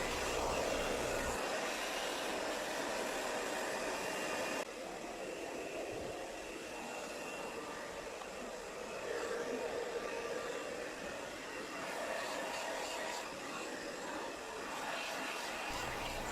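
A hair dryer blows steadily at close range while hair is being blow-dried at home during a root-color session, a continuous loud rushing whoosh with slight shifts in pitch, and faint voices underneath.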